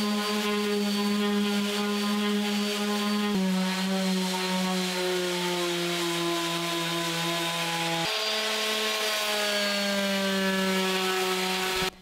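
Wood dresser being sanded with 80 grit sandpaper to strip its old finish, a steady droning rasp with tonal hum that continues unbroken for about twelve seconds, close and fairly loud, with no talking.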